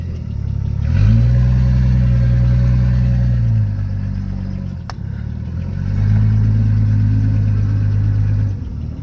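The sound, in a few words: Studebaker car engine running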